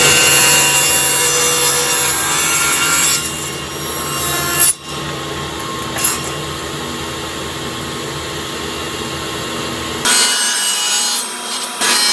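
A saw cuts wooden strips to length against a stop block on the fence. It makes a loud, steady cutting whine for about ten seconds, broken by brief dips, then winds down near the end.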